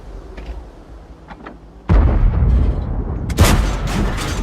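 An AT7 tank destroyer's main gun in World of Tanks booms loudly and close, followed moments later by a second sharp blast, after a quieter stretch of distant battlefield rumble and faint thuds.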